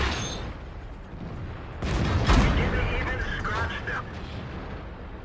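Heavy tank cannon fire in a tank video game duel against three heavy tanks, a loud booming blast with rumbling decay and battle noise beneath.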